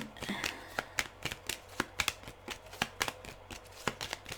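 Tarot cards shuffled and drawn, a steady run of crisp papery flicks and slaps with sharper snaps at regular intervals, close and clear with no talking.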